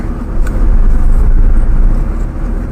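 A lorry rolling along the Trichy–Madurai national highway at night, a loud, steady low rumble of engine and tyre noise that holds close for nearly three seconds without any talk.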